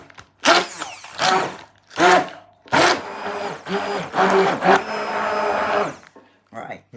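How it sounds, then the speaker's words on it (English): Stick blender pureeing a thick vegetable soup: several close, loud whirring bursts of a few seconds each, with people talking between and over them. "And then you take a stick blender. Yep. And you blend this. So you blend this bit into a puree."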